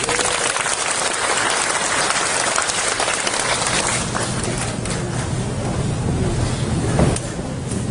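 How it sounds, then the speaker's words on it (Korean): An audience at a Korea Airports Corporation and Seoul education office signing ceremony for schools in an aircraft-noise area applauds warmly, a dense, continuous wash of clapping filling the hall for several seconds without pause. "뜨거운 박수로 우리 한국공항공사"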